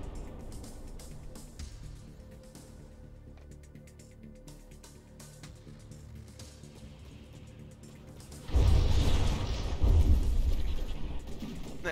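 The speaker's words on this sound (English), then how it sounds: "The APS gun actually getting to fire this time. What's it firing? Looks like frag. It's a frag HE shell." APS cannon in From the Depths firing fragmentation HE shells during a battleship tournament fight, heavy booming blasts arriving in two loud bursts late, after a stretch of quieter rumbling battle noise.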